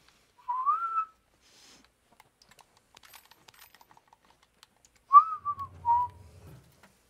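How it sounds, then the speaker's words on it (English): A character in The Last of Us Part 1 tries to learn to whistle, producing two short wavering whistles at the start and near the end, separated by quiet clicking and light tapping sounds. "I'm trying to learn how to whistle."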